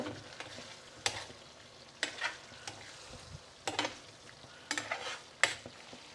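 Tofu pieces are gently stirred into a simmering tikka rezala gravy in a pan, with soft sizzling throughout and several sharp spoon scrapes and clicks spaced irregularly, close up and with no talking.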